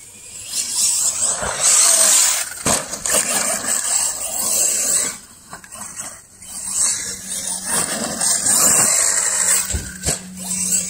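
An Arrma Mojave 6S BLX brushless RC car bashes around and jumps outdoors, its motor whining and surging loudly in bursts, dropping off briefly between runs, with wind and crunching terrain noise.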